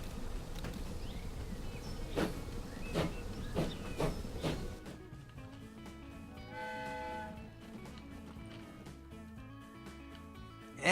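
An 1874-era passenger train in Transport Fever, with a hissing, rumbling rail run broken by rhythmic clacks that then gives way to a softer tonal background, with no talk.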